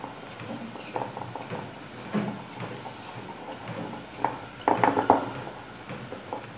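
Cocoa powder being stirred into milk in a bowl, giving soft scraping and clinking of utensil against the dish in irregular strokes, with a louder burst of rapid scrapes near the end; no talking.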